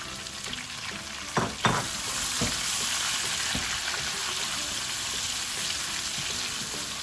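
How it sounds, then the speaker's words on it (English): Sliced shallots and capsicum hit hot tempering oil with a couple of loud splashy thumps, then settle into a steady, bright frying sizzle that carries on evenly, close and fairly loud. "I'm going to add the sliced onions. Now this is around 5-6 of the shallots sliced, and around 2 inches of capsicum."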